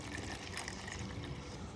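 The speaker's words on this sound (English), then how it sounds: "I'm just gonna pour some more water on the seed" Water poured over papaya seeds after most of the yellow coating was scraped off, a steady close splashing trickle running without a break through the short moment.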